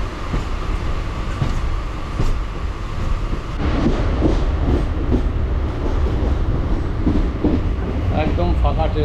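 A local train on the Kolkata to Digha line rolls steadily with a loud, continuous rumble and rattling carriage noise, with faint rhythmic clacks of wheels on the rails and a voice speaking over it.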